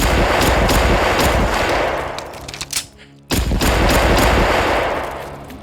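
Rapid, loud gunfire from the video game Dead Trash, steady bursts of shots filling the scene with a brief lull in the middle before the firing resumes.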